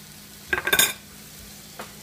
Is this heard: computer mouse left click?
no